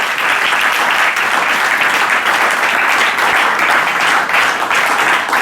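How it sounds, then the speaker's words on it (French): A church congregation applauding together during a bilingual French and English service, a steady, dense wash of clapping from a large crowd that stays loud and continuous throughout. "Let's clap for the Lord."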